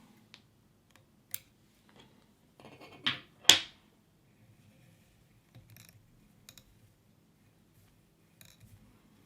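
Scissors snip away excess tag end fibres while a Temple Dog tube fly is tied, giving a few sharp, close clicks and one louder cut in a quiet room.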